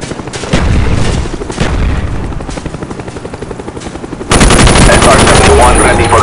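A Cobra attack helicopter in Call of Duty: Black Ops multiplayer, its rotor thumping loudly and rhythmically up close, mixed with bursts of machine-gun fire and a sudden louder surge of gunfire near the end.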